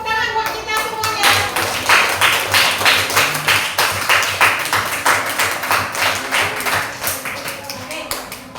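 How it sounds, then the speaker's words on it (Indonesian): Classroom applause from a group of students, a steady run of rhythmic, fairly close hand claps lasting several seconds after a brief lead-in, with a faint voice underneath. "Kasih tepuk tangan buat kita semuanya."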